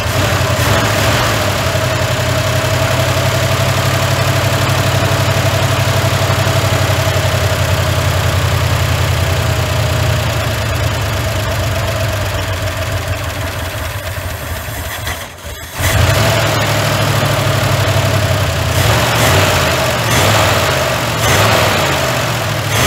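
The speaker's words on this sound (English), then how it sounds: "Let's fire it up and see what it does." A 1981 Ford F100 pickup with a 351 Windsor V8, long dormant, locked up and running rough on a suspect carburetor, idles steadily and loudly up close, its rumble dipping briefly near the end before settling again, no voices.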